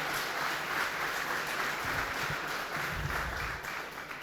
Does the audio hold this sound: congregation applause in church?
yes